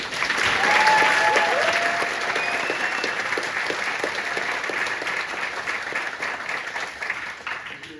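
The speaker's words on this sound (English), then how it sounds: "so give them a round of applause" An audience at a high school band's spring concert applauds, a full, steady wash of clapping that holds loud for several seconds before easing slightly.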